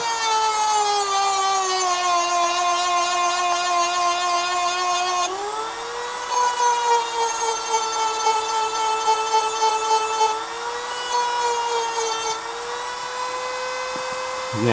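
Dremel rotary tool carving a rock pattern into the metal side of a Swiss Army knife, a loud, steady high-pitched whine that shifts pitch slightly as pressure changes, close up and continuous.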